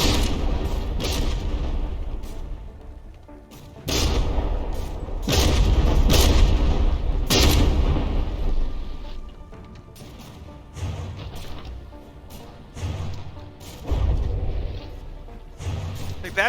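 Battleship guns firing in staggered salvos during a From the Depths tournament battle, heavy booming blasts landing at irregular intervals with rumbling decay between them, loud and close with no talk.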